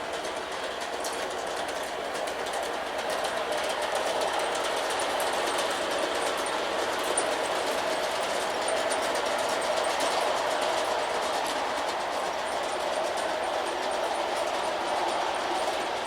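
LGB model trains run along the track under automatic DCC block control, giving a continuous close rolling rumble with fine rapid clicking from the wheels and motors, steady throughout with no voices.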